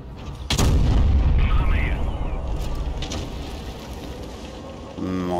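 Tank cannon fire in World of Tanks Blitz, a sharp booming shot from the Vz. 55 heavy tank, followed by a long rumbling decay and battle ambience, with a second softer blast near the end.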